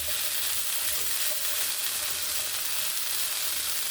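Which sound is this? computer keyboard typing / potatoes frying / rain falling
potatoes frying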